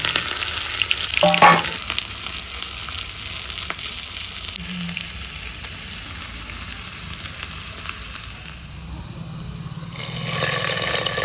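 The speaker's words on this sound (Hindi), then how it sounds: "अब लगाते हैं इसमें दूसरा तड़का। इसमें है लहसुन, अदरक, हरी मिर्च और लाल मिर्च।" Steady loud sizzling of garlic, ginger, green chilli and red chilli tempering in hot oil, with a brief burst of clatter early on and the hiss swelling again at the end.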